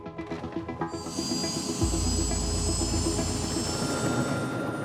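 A police helicopter flies at about 500 feet over a large US county, heard from the cockpit as a loud, steady engine and rotor roar that swells after the first second and holds.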